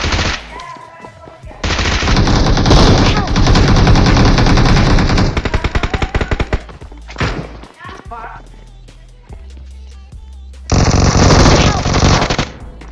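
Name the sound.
gunfire in the video game BGMI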